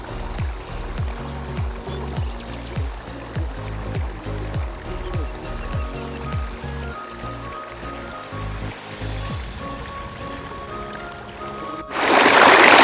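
Water streaming out of a large rock at the Panamik hot spring in Ladakh, a continuous rushing flow with rhythmic gurgling pulses, close and fairly loud, ending in a sudden louder burst of splashing.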